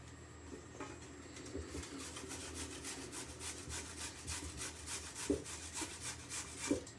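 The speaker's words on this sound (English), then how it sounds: "I'm going to grate our carrot" A carrot is rasped against a kitchen grater for a salad, a quiet series of quick scraping strokes that speeds into a brisk rhythm, close and fairly soft with no talk.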